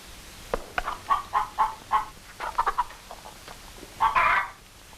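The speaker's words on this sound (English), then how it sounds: "Well, feed the chickens." A run of short clucking calls in uneven bursts, fairly close, with a louder cackle near the end; no talking.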